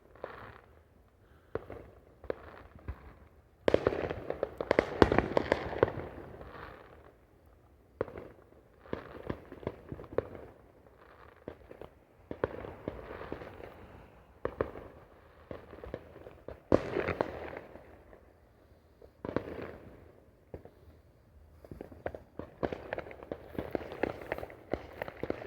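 Fourth of July fireworks bursting repeatedly, a long series of sharp booms and crackles at irregular intervals, some loud and some farther away, heard outdoors over a bit of movement and footsteps.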